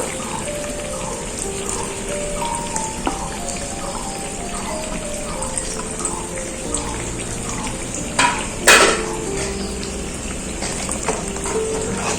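Eggplant slices fry in hot oil beside already-fried pointed gourd, a continuous crackling, spattering sizzle with a louder clatter near the end, beneath soft background music.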